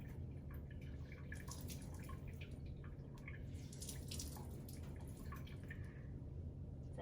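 Water drips and trickles from a wrung-out wet shirt in a quiet room, a faint scattered patter of small splashes that continues throughout, with no talking.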